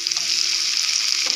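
Tomato hits a pan of browned onion and crackled mustard seeds, producing a bright, even sizzle at close range throughout the short moment.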